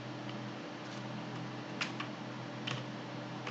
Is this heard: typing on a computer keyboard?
yes